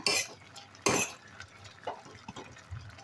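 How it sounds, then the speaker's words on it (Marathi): Taro leaf curry being stirred and sautéed in a pan, with scattered scraping and clinking utensil strokes against the pan, a louder scrape near the start and softer stirring after. "आता पुन्हा एकदा परतून घेऊया"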